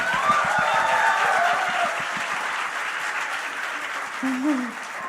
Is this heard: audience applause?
yes